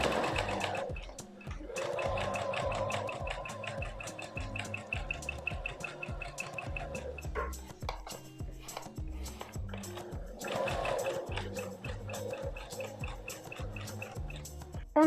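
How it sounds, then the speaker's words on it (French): A sewing machine stitches around a sweater collar 1 cm from the edge in a long, steady run. Its fast, even needle rattle is close and moderately loud, with brief slowdowns and no speech. "on va venir coudre tout le tour à 1 cm du bord"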